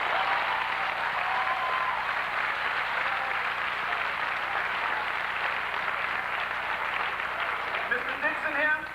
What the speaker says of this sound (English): I just think he needs a special hand of applause